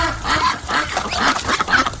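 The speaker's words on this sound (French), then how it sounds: "Le canard." A duck quacking loudly and continuously in harsh, rasping calls, presented as the answer in a French radio guessing game.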